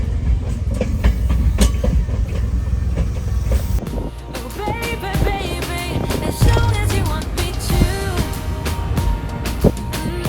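A Japanese JR train rolls past with rumbling and rhythmic clacks, then metallic squeals and screeches rise from the wheels in the second half, fairly close and loud.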